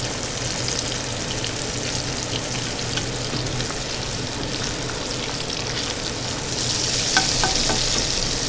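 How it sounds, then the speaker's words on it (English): Rice fries crispy in hot oil with a steady, dense sizzle and crackle that swells louder near the end, close by with faint tapping and no speech. "Once this is fried crispy"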